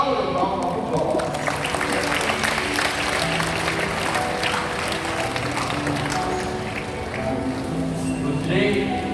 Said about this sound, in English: can you please give them a louder round of applause?